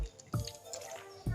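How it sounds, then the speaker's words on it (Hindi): Yogurt and a few tablespoons of oil go into a pizza dough mix with yeast, giving two soft wet plops and a squishy spill between them, close and fairly quiet with no talking. "1 टेबलस्पून ऐड कर दूँगी इसमें दही, 2 से 3 टेबलस्पून ऑयल।"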